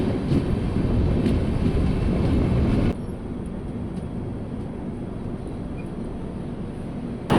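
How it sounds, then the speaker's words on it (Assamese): Interior rumble of a moving train arriving at Kamakhya railway station in Assam, a steady loud roar that drops to a quieter drone partway through, with a brief bump near the end. "আহি পালোঁ কামাখ্যা ৰেলৱে ষ্টেচন।"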